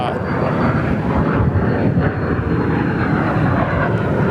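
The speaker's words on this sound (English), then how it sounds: "looks like a little Cessna citation" A small Cessna Citation aircraft near the runway at Perth Airport, its engine noise a loud, steady roar that fills the scene throughout, with people talking faintly underneath.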